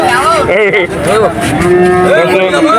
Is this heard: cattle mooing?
yes